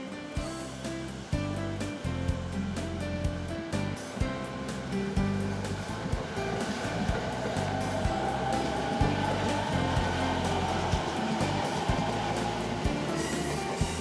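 A JR East E217 series rapid train, a suburban electric type introduced in 1994, running on the Uchibo Line in Chiba, with a continuous loud roar of wheels and motors and rhythmic rail clatter throughout.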